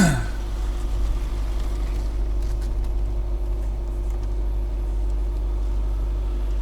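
Range Rover rolling up a countryside track, a steady low engine hum and rumble inside the cabin, constant and moderately loud with faint knocks and rattles, no talking.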